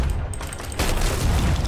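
Cannon fire during a Sea of Thieves pirate ship battle, a dense run of deep booms and rumbling blasts that swell louder after the first second, loud and continuous with no clear pauses.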